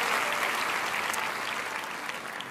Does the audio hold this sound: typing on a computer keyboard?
no